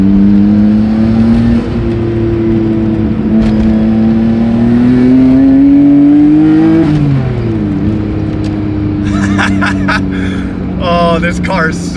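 A car on a twisty mountain road during a touge run, its engine droning steadily and climbing in pitch as it accelerates, then dipping briefly before pulling hard again, loud and close from inside the cabin.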